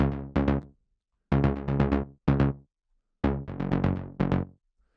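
Layered saw-wave synth in a Serum patch for melodic techno, three voices with a Juno-style tone and envelope-driven filter, playing short rhythmic chord stabs in bursts with gaps between, clear and alone.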